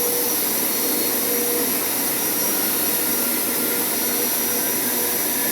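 A carpet cleaning machine runs steadily and loudly in a room, a continuous broadband whine and roar with no pauses or voices.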